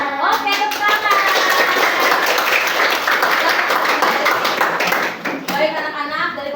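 Schoolchildren in a classroom clap together loudly and close, a dense, rapid patter of small hands mixed with excited children's voices and chatter, dipping briefly near the end before resuming.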